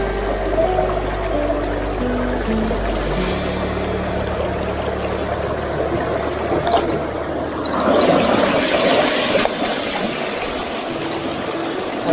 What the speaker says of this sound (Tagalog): Ito, sarap ng agos ang tubig.